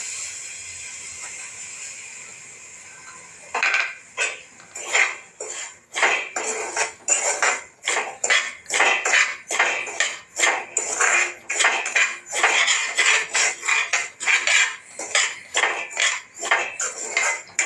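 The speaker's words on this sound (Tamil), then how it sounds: "இந்த நெய்யில் நம்ம வறுத்து எடுத்துக்கலாம்" A cup of semolina is stirred and roasted in ghee in a pan for rava khichdi. After a low sizzle, a spoon scrapes and clinks against the metal pan in a fast, regular rhythm, loud and close with no talking.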